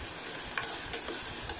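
Steady, soft sizzling of lightly salted onions frying in a pan, with a few light stirring scrapes, close by and without talk.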